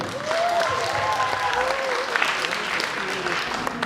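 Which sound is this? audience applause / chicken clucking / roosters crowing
audience applause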